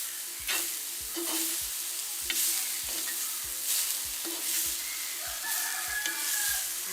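Greens with drumstick leaves are stirred in a sizzling pan, each spoon stroke scraping in a steady rhythm about twice a second, while a rooster crows faintly in the background.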